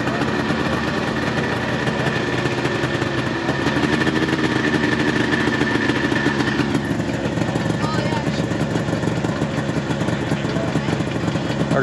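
A vintage Arctic Cat Cheetah 400 snowmobile engine runs steadily at a show, a continuous droning rumble under constant crowd chatter and people talking nearby.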